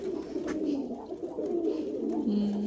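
Pigeons cooing nearby in a steady, continuous run of soft low calls.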